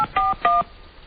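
Touch-tone telephone keys pressed during a 2003 radio talk show, giving two loud, clear electronic beeps in quick succession with no talking.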